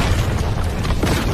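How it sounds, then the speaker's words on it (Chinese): Corpse bombs blow up in an animated fantasy battle, a dense, loud rumbling boom with a sharper burst near the end, filling the whole moment with no talk. "这里每一具尸体就是一颗致命的炸弹"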